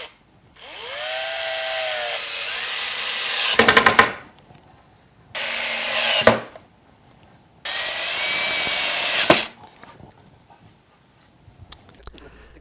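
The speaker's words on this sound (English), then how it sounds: "I'm still going to put some screws in here to hold them a little bit better" A power drill drives screws into wood while building a drill press table, with several close, rising whirring bursts of a few seconds each, separated by quiet gaps and a short final blip.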